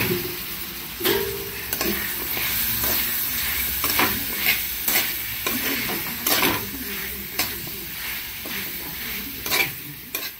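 Boiled jackfruit seeds stir-fried with chili powder and garam masala in a pan, with steady close sizzling broken by repeated scraping stirs of a utensil against the metal.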